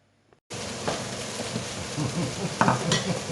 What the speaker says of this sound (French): les pommes de terre brunissent un peu.